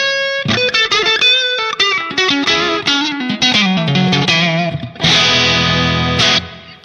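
Electric guitar played through a Line 6 Pod HD500 Fender Twin vibrato amp model, loud and close: a melodic run of picked notes and chords with warm sustain, ending in a full strummed chord that rings before cutting off.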